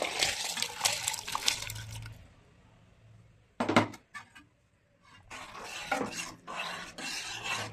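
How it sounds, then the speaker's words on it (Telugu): Biryani rice poured into a pot of boiling water, a loud gritty rushing patter of grains hitting water and metal in two bursts separated by quieter bubbling and a sharp clink, close up with no talking. "ఇప్పుడు బిర్యానీ రైస్ని ఈ మరుగుతున్న నీళ్ళలో వేసేయాలి."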